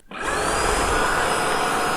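Tineco Pure One X cordless vacuum cleaner starting up and running: a quick spin-up into a steady, loud motor whoosh with a high whine, continuous and alone without talk.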